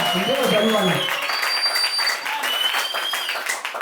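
A church congregation at a Sunday service applauds and cheers God, a dense continuous wash of clapping and voices from a large crowd, loud and sustained throughout.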